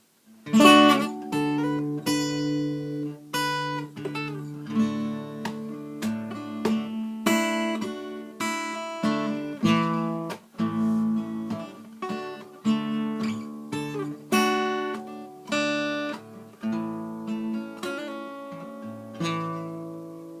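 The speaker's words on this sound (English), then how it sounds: "a little bit of strumming just for timing. Grace notes just for timing." An acoustic guitar is strummed in a lesson passage, chords struck one after another with quick grace notes marking the timing, each ringing and decaying before the next, clear and close with no talk.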